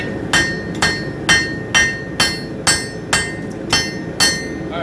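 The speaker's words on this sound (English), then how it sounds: "I'm going to go hammer where I was holding." Hammer striking a hot san mai steel billet on an anvil, ten evenly spaced ringing metallic blows with a bright clang and short decay each, close and loud with no talking.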